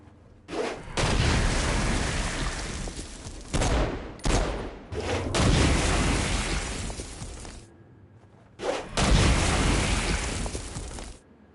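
Bursts of gunfire and heavy blasts against demons in Saints Row: Gat out of Hell, loud and close, coming in three long dense volleys broken by brief pauses.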